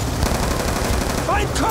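Rapid bursts of automatic gunfire rattle in a Call of Duty: Black Ops 2 street battle, dense and continuous at moderate loudness, with a brief shout near the end.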